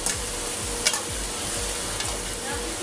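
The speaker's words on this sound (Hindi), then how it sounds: "इसी तरह फ्राई करना है" Chicken korma masala frying in a pan with steady bright sizzling and rhythmic scraping stir strokes, close and continuous.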